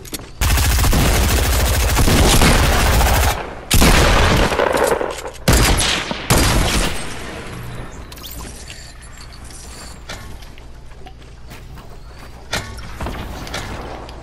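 Rapid automatic gunfire and bursts of shots in a chaotic 50v50 video game battle, loud and dense for the first several seconds, then a few sharp isolated shots over a quieter rumbling background.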